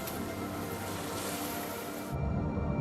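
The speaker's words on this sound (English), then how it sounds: "the surf breaking on the reef" Ocean surf breaks on the reef at Tetiaroa, a soft, steady wash of distant waves that changes abruptly near the end into a lower, fuller rumble.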